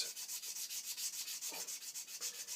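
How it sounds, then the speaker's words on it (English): Fine-grade abrasive gently rubbed over a part of a Tilley lamp during servicing, giving a steady, soft, rhythmic back-and-forth scratching that repeats evenly throughout, close and quiet with no talking. "just a very gentle rub with that"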